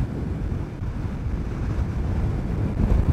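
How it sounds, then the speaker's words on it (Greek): Strong wind buffets the microphone while riding a Royal Enfield Himalayan 450 motorcycle along a coastal road toward Varkiza, a steady, loud, low roaring rush that swells slightly toward the end, with no other distinct sounds. "θα με πετάξει κάτω ο αέρας"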